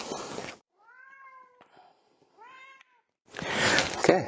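A cat meows twice in a quiet room, two drawn-out mid-length calls with a short gap between them, set between stretches of louder handling noise during a ceiling fan installation.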